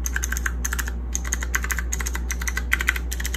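Keycaps on a macro keypad clack in quick bursts of crisp, close clicks, an irregular typing rhythm over a low steady hum.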